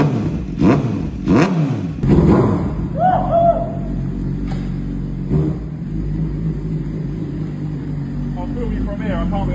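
Motorcycle fitted with a Powerflow exhaust, its engine revving in a few sharp bursts early on, then settling into a steady loud rumble, with voices talking over it.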